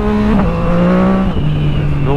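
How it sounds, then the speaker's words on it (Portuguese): Yamaha MT motorcycle revving up hard through the gears, a loud close engine note climbing in pitch, then dropping at a shift and rising again. "Eu acelerei a MT ali, ó."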